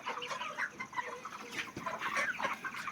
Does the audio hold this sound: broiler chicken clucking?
yes